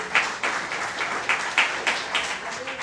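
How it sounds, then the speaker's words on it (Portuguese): Church congregation applauding during a service, loud clapping with periodic accents that give it a loose rhythmic pulse, a full room of hands close by and continuing throughout. "Pode dar uma salva de palmas ao Senhor."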